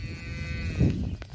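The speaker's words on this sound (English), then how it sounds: "I want to show you some little cows sucking my hand." Young calves on a farm make a brief low sound while sucking on a person's hand, with a single close bellow near the middle and no talking.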